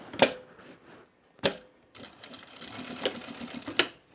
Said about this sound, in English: I'm edge stitching the top edge